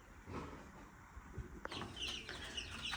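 A rooster walks with two Orpington hens, and a few soft clucks come through faintly over a steady background hiss.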